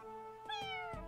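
A cat meowing in the Fire Emblem Engage video game, one clear drawn-out meow over a quiet steady background, with no talking.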